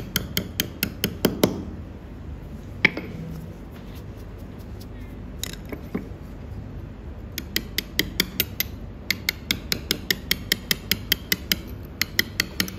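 Mallet or hammer striking a steel chisel while cutting letters into stone, heard as close, sharp, evenly spaced taps in quick bursts with short pauses between runs.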